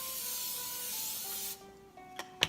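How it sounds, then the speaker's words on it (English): Cooking spray sprayed around the sides of a saute pan in preparation for a frittata, a continuous close hiss that lasts about one and a half seconds, followed by a few short scraping clicks. "I am going to make sure that I have some cooking spray all around"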